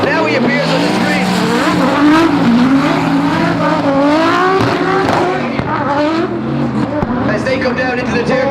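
Drift car with the driver Vasquez firing through the first corner at big angle at Rockingham during a British Drift Championship round, engine roaring loud and continuous with rising revs and tire squeal, a commentator talking over it throughout.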